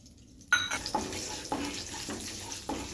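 Chana dal and urad dal hit hot oil in a pan, bursting into a sharp sizzle after a quiet start, with crackling frying and a few stirring clinks continuing close by.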